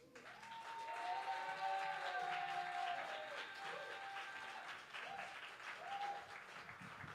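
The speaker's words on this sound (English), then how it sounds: "Keep that round of applause going." Steady audience applause at a Berkeley poetry slam, a broad wash of clapping lasting several seconds at moderate distance, with a few faint voices and whoops mixed in.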